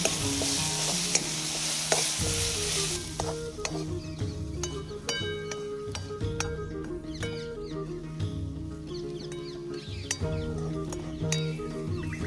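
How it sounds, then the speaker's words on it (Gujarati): Spices stirred into chili and tomato frying in a pan for a Kathiawadi dhaba-style dish, a strong continuous sizzle with repeated spoon scrapes and light clinks, close up with no talk. "તો જો મિત્રો આપણે મસાલા એડ કરી દીધા તો આપણે મિક્સ કરી દઈશું"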